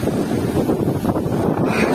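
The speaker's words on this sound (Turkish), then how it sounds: "Normalde rüzgar karşıdan vuruyor, böyle bu taraftan vuruyor" Strong wind buffets a tent loudly and continuously during a sudden storm, a rough, rumbling roar with gusty flapping, close to the microphone.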